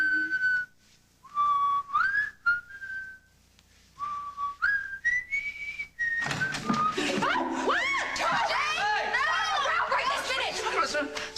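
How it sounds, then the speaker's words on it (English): A man whistles a halting series of short sliding notes with pauses between, close and clear, then soft laughter and chatter from several people swell underneath as the whistling carries on. "I'm going to whistle for you."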